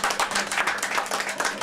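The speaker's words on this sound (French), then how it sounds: "Vous l'applaudissez pour" Brisk audience clapping at a tribute event, a close, lively patter of many hands lasting under two seconds without any voices.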